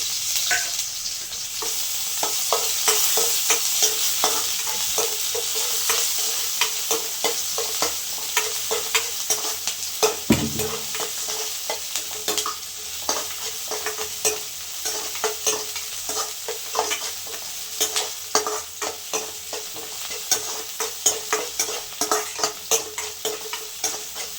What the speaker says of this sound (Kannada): ಆ ಬಾಣಲಿಗೆ ಎರಡು ಸ್ಪೂನಷ್ಟು ಎಣ್ಣೆನ ಹಾಕ್ಕೊಂಡು ನಂತರ ಸಣ್ಣದಾಗಿ ಹಚ್ಚಿಟ್ಕೊಂಡಿರುವ ಒಂದು ಈರುಳ್ಳಿನ ಹಾಕಿ ಚೆನ್ನಾಗಿ ಫ್ರೈ ಮಾಡ್ಕೋಬೇಕು